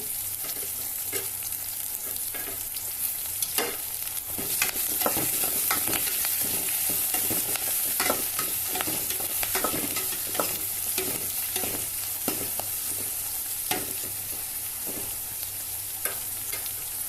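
Onions and curry leaves fry in a pan of oil for a Nellore-style fish curry, with a steady loud sizzle and repeated sharp clinks and scrapes as the mixture is stirred.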